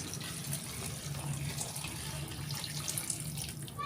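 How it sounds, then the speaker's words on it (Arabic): Water streams steadily into a pot of rice with beef liver, a continuous rushing pour at close range that lasts throughout, with no talking. "هتحطي بالظبط نفس كميه الرز ميه"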